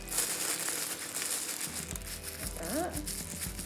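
Tissue paper crinkles and rustles as it is gathered up around a small heap of rice, with someone speaking over the handling.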